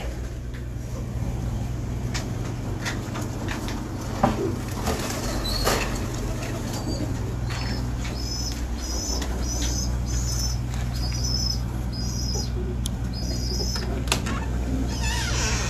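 A pair of domestic pigeons shuffle and flutter close by over a steady hum, with occasional short wing flaps and soft patter. Faint chirps come in near the end.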